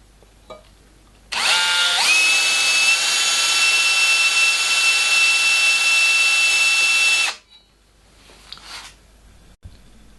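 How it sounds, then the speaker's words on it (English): A power drill whines loudly and steadily for about six seconds, spinning up quickly, then cuts off, followed by brief quieter rattling. "This ensures perfect distance as you drill out the second hole."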